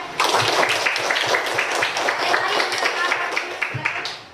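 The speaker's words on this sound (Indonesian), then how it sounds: "Aplaus ya Maria." A classroom of students claps for Maria, with dense, steady applause from many hands filling the room for several seconds before thinning out. Voices mix in underneath.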